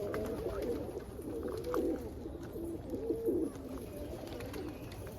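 Roller pigeons, including blue bar ballheads and a pied cock bird, give soft rolling coos up close amid faint background noise, with no talking.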